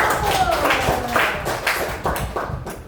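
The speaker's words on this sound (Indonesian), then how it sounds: "tepuk tangannya buat Nurul" A class claps for a pupil, a short round of scattered hand claps with faint voices behind.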